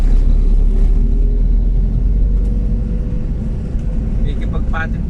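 Dense city road traffic rumbles loudly and continuously around a rider moving through congested streets with tricycles and motorcycles. Someone talks over the steady engine drone.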